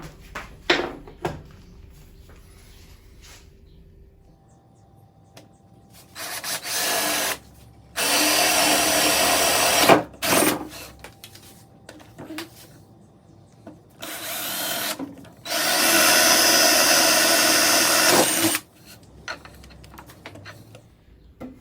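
A power drill bores holes in a wooden board for a composting toilet seat, with several loud bursts of whirring separated by quieter pauses and handling clatter, close up with no talking.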